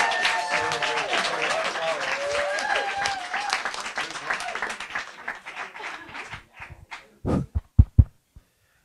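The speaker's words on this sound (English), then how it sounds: "a whole nother round of applause for that extraordinary act" Loud audience applause and cheering after a song performance, a full dense wash that thins over several seconds into a few last scattered claps.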